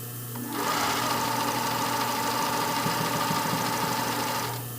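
Domestic sewing machine stitching fold over elastic onto a pair of briefs, a steady continuous mechanical whir running for about four seconds at close range, with no talking.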